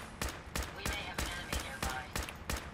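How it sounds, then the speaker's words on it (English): Gunfire rings out in Fallout 4 as a rapid series of sharp, evenly spaced shots, roughly three per second, somewhat distant and moderately loud over faint game ambience. "Sound like gunfire kind of clued you into that, did it?"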